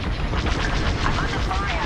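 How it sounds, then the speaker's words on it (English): Incoming fire pounds a starfighter in Star Wars: Squadrons, a steady, dense barrage of loud rumbling blasts and crackling impacts that carries on without a break. "I'm under fire."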